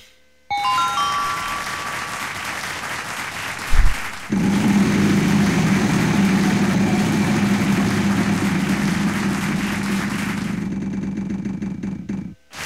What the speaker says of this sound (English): they're politely clapping at four T's